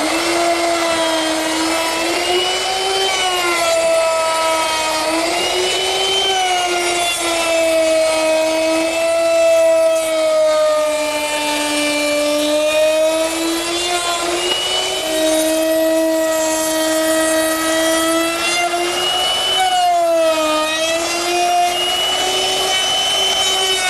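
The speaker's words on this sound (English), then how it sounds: "round over all the edges with a 1/2 inch round over bit" A router fitted with a half-inch round-over bit shapes the edges of a wooden picnic table, giving a loud, steady high-pitched whine that wavers slightly in pitch as it cuts, running alone without talk throughout.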